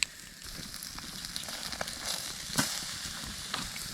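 Food sizzling and crackling over a small wood campfire outdoors, on a wire mesh rack at a lakeside camp, a steady hiss with scattered pops and snaps.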